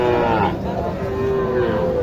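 Young milk-fed calves moo loudly and close by at a busy cattle market in Naogaon, Bangladesh, with one drawn-out bellow rising over a dense background of crowd chatter.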